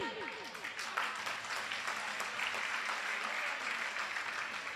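Applause from a gathered audience at a spiritual talk in India, a dense steady patter of many hands clapping together at moderate volume, continuing through the whole stretch with a little background voice.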